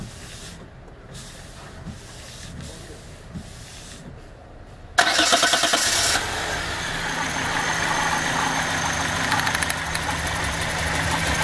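A Renault Megane 1 with a 2.0 engine, fouling its plugs and burning oil, cranks and fires abruptly, then settles into a steady, loud idle after a few seconds of quiet background.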